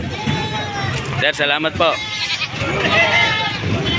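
Goats bleat at a livestock market in Padre Garcia, Batangas, a short wavering call rising over steady crowd noise while someone talks close by.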